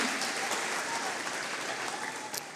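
Applause from a gathered audience welcoming three volunteers to the stage at a church event, a steady dense wash of many hands clapping, moderately distant and sustained throughout.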